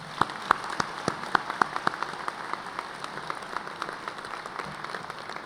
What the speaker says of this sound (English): join me in a round of applause for the family members, friends, faculty who have helped you reach this milestone today